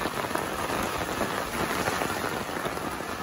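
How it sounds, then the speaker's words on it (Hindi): Steady, dense rain falls close by under dark clouds during a solar eclipse outing, a loud, even hiss that never lets up. "वहां से देखो पूरे काले बादल है और बारिश दिख रही है मुझे, पूरी बारिश।"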